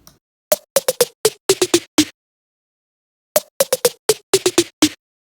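A drum fill pitch-shifted down an octave in a sampler: a quick run of about ten tuned hits that fall in pitch. The same fill repeats after a pause of roughly a second, crisp and dry, with nothing else playing.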